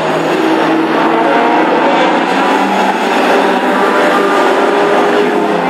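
Race cars charge through turn 3 in a close pack during a circuit race, a loud, continuous blended engine roar that holds steady throughout with no clear gaps.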